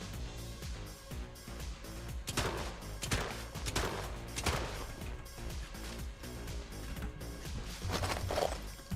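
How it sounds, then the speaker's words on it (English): A shotgun fires repeatedly in the video game Brigador, giving sharp, distinct blasts at irregular intervals over a dense, constant wash of game sound, fairly quiet overall. "so it's shotgun time"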